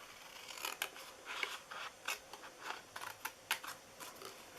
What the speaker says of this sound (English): You are going to cut off this whole section here.